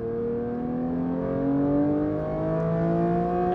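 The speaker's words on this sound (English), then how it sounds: "we have automatic rev match downshifts" A Porsche 992 GT3 Touring's engine pulls in a steady, building drone with clear rising pitch, heard from inside the car, loud and continuous without pauses.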